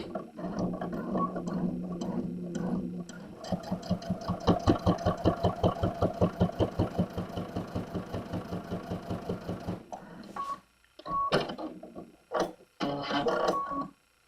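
A sewing machine stitches through quilt seams, its needle running in a fast, steady, rhythmic chatter for several seconds before stopping and restarting in short bursts. The sound is close and moderately loud.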